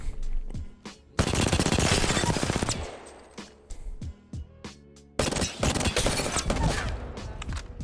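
CAR SMG fire from Apex Legends Season 11 in the Firing Range, loud close rapid bursts: two long sustained strings of automatic fire separated by short gaps, with scattered single shots and brief taps between them.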